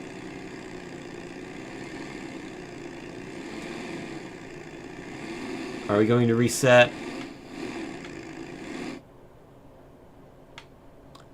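A car engine idles steadily in a physics-based driving video game, a low constant hum that cuts out abruptly near the end, with a person speaking briefly over it in the middle.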